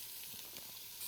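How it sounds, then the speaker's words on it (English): Chopped onion dropped into hot bacon grease in a pot, a steady close sizzle with a soft hiss running throughout and no voices. "Once the bacon is browned, we're going to add in our chopped onion."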